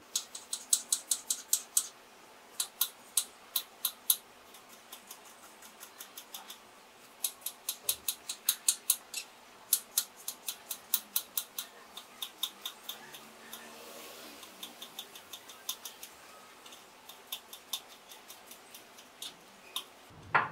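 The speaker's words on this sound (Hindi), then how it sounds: "तो ये एप्पल मैंने काट लिया है, इसके छोटे छोटे टुकड़े कर लेते हैं" A knife chops an apple into small pieces on a board, its steady series of sharp, close clicks coming in quick rhythmic bursts with short pauses, and no talk over it.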